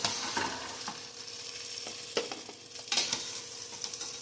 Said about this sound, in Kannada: ಸ್ವಲ್ಪ ಫ್ರೈ ಆಗಿದೆ, ಕಲರ್ ಸ್ವಲ್ಪ ಚೇಂಜ್ ಆಗಿದೆ.